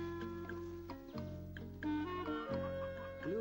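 Roosters in a cartoon village give clucking, crowing-like calls in short bursts over a steady musical background, with a few layered animal sounds.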